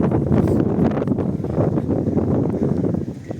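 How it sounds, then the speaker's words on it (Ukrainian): Steady evening wind buffeting the microphone in a town centre in Truskavets, Ukraine, a continuous low rumbling roar that stays loud throughout with no breaks. "але вітряно"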